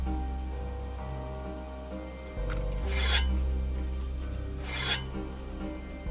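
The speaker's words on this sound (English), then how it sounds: "Now when you pick stuff up, you get some noises as well." In the video game Veloren, two short bright rasping swishes mark item pickups about two seconds apart, standing out over a steady low game background hum.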